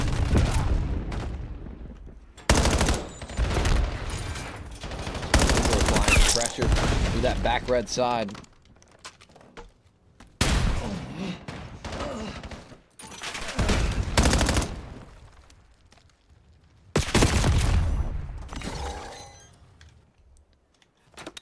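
Rapid bursts of automatic gunfire and single shots from a competitive shooter game match, crackling in dense clusters between quieter gaps, with an excited caster talking over the action.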